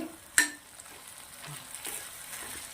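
A spoon stirs coriander-cumin powder and chopped green coriander into Punjabi-style dahi bhindi, a yogurt and okra curry, giving a quiet, faint scraping with one sharp clink early on and soft sizzling underneath.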